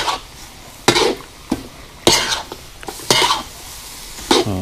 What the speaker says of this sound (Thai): สุดท้ายใบกะเพราคนคลุกเคล้าให้ใบกะเพราสลดครับ